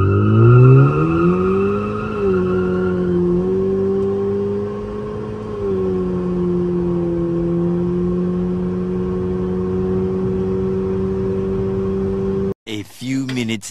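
A car is held on the brake and revved for a brake-boost launch, its engine rising to a high steady drone around 5000 rpm and holding there before an abrupt cutoff and a short burst of voices.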